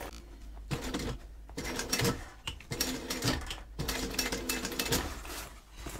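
A sewing machine stitches a seam in close, steady bursts of rapid mechanical chatter, pausing briefly between runs, with no voices.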